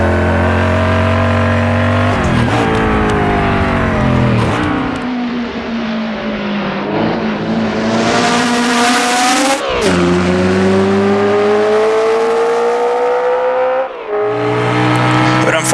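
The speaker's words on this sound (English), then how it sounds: "this engine sounds great as well. It sounds interesting from in the car. It sounds really nice from outside the car." A loud race car engine in the video game Assetto Corsa revs and shifts through gears, rising and dropping in pitch repeatedly, heard up close with brief tire noise.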